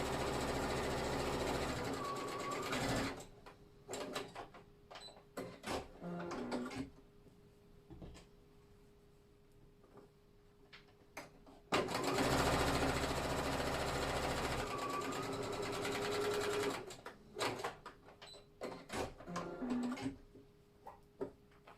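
Sewing machine stay stitching a jeans yoke, running in two steady motor bursts of several seconds each with a rapid mechanical hum, separated by quieter pauses of handling and small clicks.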